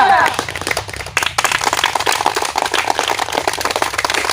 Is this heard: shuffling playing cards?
no